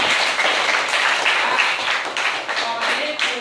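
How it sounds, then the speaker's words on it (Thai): Students in a music classroom clap their hands together, a dense, steady patter of many hands close by that fills the short stretch without pause. "ปรบมือเพื่อนหน่อยครับ"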